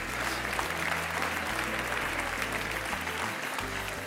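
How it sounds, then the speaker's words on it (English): A dense, continuous wash of audience applause fills the room for volunteers coming on stage at a live talk, loud and sustained throughout with low background music underneath. "let's give these volunteers a nice round of applause"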